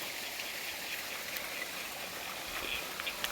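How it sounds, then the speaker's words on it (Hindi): A mountain waterfall and stream pour down from the hills, giving a steady, hissing rush of flowing water that stays even and unbroken throughout, with no voices. "पानी का झरना जो है वो इधर।"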